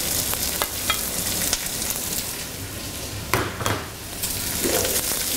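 Tomato paste, celery and onions sizzle and fry in a pan for a Saxon beef roulade, a dense, steady crackle with occasional scrapes of stirring, close up and with no talk.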